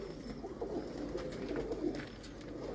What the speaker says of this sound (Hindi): ये जी आपके भाई के कबूतर हैं माशाल्लाह जी